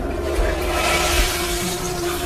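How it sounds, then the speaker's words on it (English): Dozens of prison toilets flush at once inside a cell block, a loud continuous rushing and gurgling of water with a steady hum underneath, lasting the whole moment. "It's the sound of dozens of toilets flushing at once."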